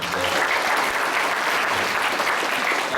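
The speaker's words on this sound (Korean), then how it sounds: "우리 박수 한번 주세요." Children's ministry service congregation in a Korean church applauds teachers, steady dense clapping filling the room at moderate level, alone without talk.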